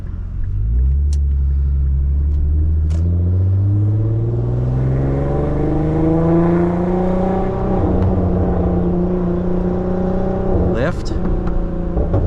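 A tuned 2015 Infiniti Q50 with the 3.7L engine and test pipes, heard from inside the car, revs up in a long rising pull with a loud, raspy, booming exhaust, eases off briefly, then climbs again.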